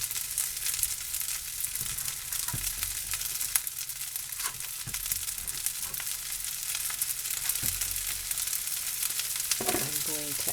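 Pork fried rice sizzles and fries steadily in a pan as vegetables are stirred in, with occasional scraping and clinking of the utensil against the pan and a brief rattle near the end, no talking.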